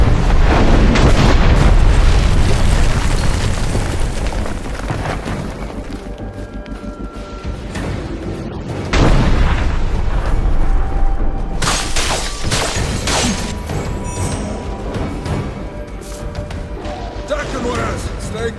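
Cannon fire in the Dungeon Siege III video game: booming blasts and crashing impacts in rapid succession, heavy at first, then easing and returning, mixed with game music and effects, and with voices speaking.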